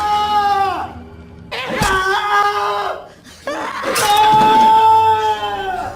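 Screaming from a character in The Last of Us season 2 episode 2, several loud strained cries and wails in bursts, separated by brief pauses and mixed with other vocal sounds.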